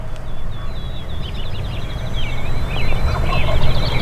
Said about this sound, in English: we heard some birds gobbling over the road here.